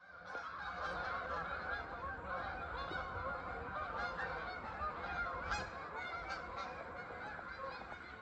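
A flock of geese honks continuously through a winter scene, many overlapping calls forming a steady, busy chorus at moderate distance with no talking.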